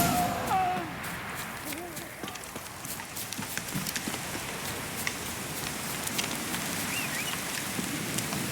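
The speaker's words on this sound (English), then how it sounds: "Looks like rain." Steady rain patters in the open world of the video game Witcher 3: Wild Hunt, a constant hiss with light hoof-like clopping and a brief voice early on.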